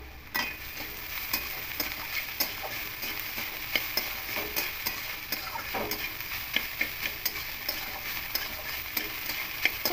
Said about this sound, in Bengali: খুব ভালো করে আবার একটু খুন্তি দিয়ে নাড়াচাড়া করে নেব